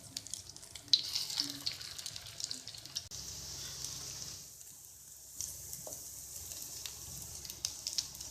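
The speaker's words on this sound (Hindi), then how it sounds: "अब इसको तल लेंगे। शैलो फ्राई करेंगे," Chicken kebabs shallow frying in oil in a home kitchen, a soft continuous sizzle and crackle with a few brief clinks, fairly quiet and close, no talking.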